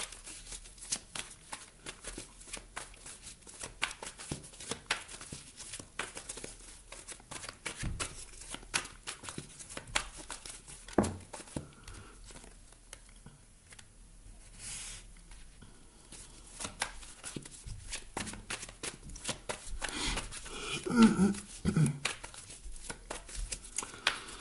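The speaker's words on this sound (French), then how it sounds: "Alors, je remélange le jeu." A deck of tarot cards being shuffled by hand in repeated riffling and sliding bursts, close and fairly quiet, with brief pauses and a busier flurry of card handling toward the end.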